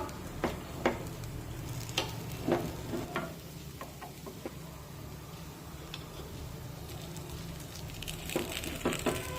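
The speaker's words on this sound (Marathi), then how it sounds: "आता अशाच पद्धतीने आणखीन 2 मिनिटे अगदी मंद आचेवर हे अप्पे भाजून घेऊया।" Sweet rava appe roasting in an appe pan over a low gas flame: a soft, steady sizzle with scattered metallic clicks and taps as the pan is turned, close and fairly quiet, with no voices.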